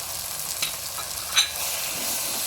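Chili powder, coriander powder and chicken masala being stirred in a hot pan, a loud continuous sizzle with two brief scraping clinks of the spoon.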